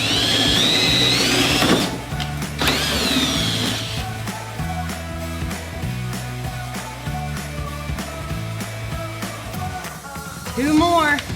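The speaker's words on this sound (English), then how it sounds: "Sometimes I have to use the pliers to grip the back of the rivet so that my drill can go all the way through" A drill grinds out rivets on early Bronco fender flares, in close, steady buzzing runs with changing pitch and pauses, a squealing whine at the start and end, and a person talking over parts.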